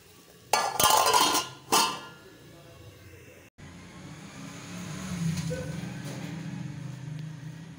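A metal lid clatters and clinks onto a pot of cooking potatoes in two sharp bursts, followed by a steady low hiss and bubbling as the covered pot simmers over a lowered flame.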